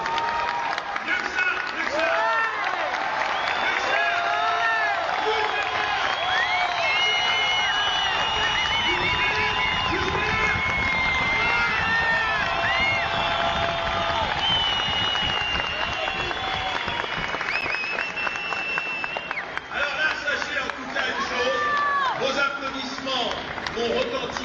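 An audience at the Zénith de Paris breaks into sustained applause, dense clapping from a large crowd with some cheering mixed in, continuing steadily for the whole stretch.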